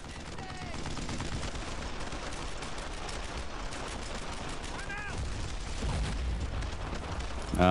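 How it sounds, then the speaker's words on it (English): Continuous rattling gunfire from the World War II shooter Brothers in Arms: Earned in Blood, with overlapping rifle and machine-gun shots at a moderate level, with shouted voices mixed in. "Suppressing fire!"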